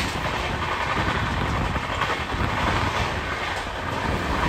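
The Shantiniketan Express runs at speed past Belmuri station, heard from aboard as a loud, steady rumble of wheels and carriage noise with rhythmic clattering and no voices.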